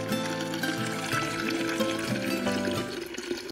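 Water runs from a tap and fills a container, a continuous rushing, gurgling flow with rising pitch as it fills, close and steady for canning frozen berries.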